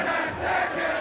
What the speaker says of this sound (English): But there was a crowd chant that was huge.